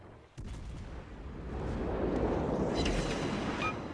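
Battleship guns fire armor-piercing shells in the naval video game World of Warships: Legends, opening with a sharp boom followed by a long, loud rolling rumble that swells and sustains.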